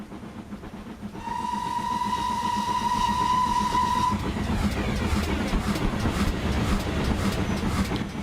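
A default King class steam locomotive in a train simulator game sounds a long steady whistle for about three seconds, then rolls on with continuous rumbling rail noise and rhythmic clatter, loud and close throughout.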